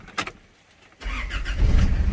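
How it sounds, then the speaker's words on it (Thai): An Isuzu D-Max pickup gives a brief click and then cranks. Its engine catches and settles into a loud, steady, rumbling idle, heard close up. "ทดสอบสตาร์ทนะครับ"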